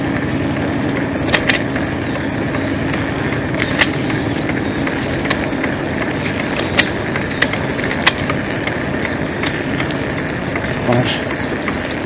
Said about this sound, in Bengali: রাস্তা কোনো খারাপ হওয়ার জন্য আমার সাইকেলটা নয়েজ শুরু হয়ে গেছে, কোথাও জানি নয়েজ হচ্ছে।